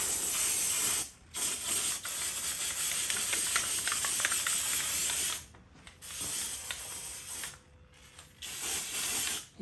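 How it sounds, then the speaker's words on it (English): A spray can applies textured non-skid finish in several long, loud hissing bursts separated by brief pauses, with faint rattling between sprays. "It did get a little heavy in that first spray."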